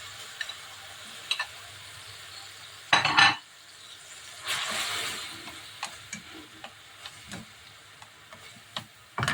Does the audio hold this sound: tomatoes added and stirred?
yes